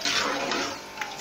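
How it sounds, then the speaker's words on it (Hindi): Water pours steadily into a cooking pot while potato rice is being made, a broad continuous splashing rush that eases slightly toward the end. "5 गिलास पानी मैंने इसमें डाल दिया।"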